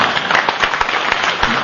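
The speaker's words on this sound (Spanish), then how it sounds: "Un aplauso para el compañero." A crowd at a 2009 Agrupación Oesterheld gathering gives a comrade a round of applause. The clapping is close and loud, with distinct sharp claps rising above a continuous wash of hands.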